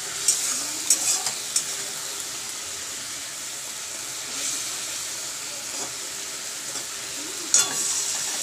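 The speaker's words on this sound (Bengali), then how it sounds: "আর একটুখানি ফুটবে, ফুটলে মাছের ঝালটা নামিয়ে নেবো।" A spicy fish curry bubbles and sizzles in a pan, making a steady close hiss with a few sharp pops and stirring scrapes and no talk over it.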